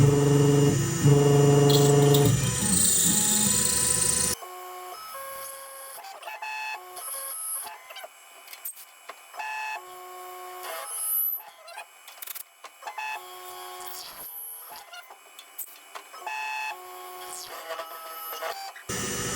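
A Tormach mill cuts with an end mill in a long-reach tool holder while the tool rubs in the cut. A loud, harsh tonal whine fills the first few seconds, then gives way to quieter intermittent squeals and chattering tones.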